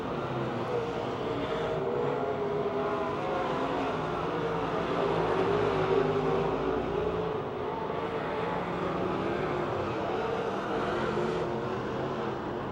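Race cars circling Pennsylvania Motor Speedway near Pittsburgh, a continuous distant engine roar that swells and fades slightly as the pack laps, with no talk over it.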